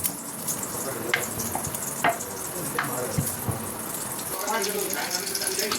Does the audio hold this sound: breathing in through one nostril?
no